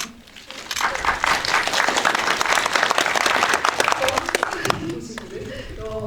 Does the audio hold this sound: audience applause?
yes